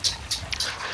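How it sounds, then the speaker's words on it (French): A pet dog whimpers and yips excitedly as its owner comes home, several brief high-pitched bursts close by over a low hum. "c'est le chien qui est content que ma douce et tendre rentre."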